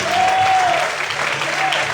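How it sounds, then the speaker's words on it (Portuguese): Church congregation applauding during an evening worship service, a steady broadband clapping wash filling the room at moderate loudness, with a faint sustained tone and some voice mixed underneath. "Vamos poder aplaudir e exaltar o Senhor nessa noite."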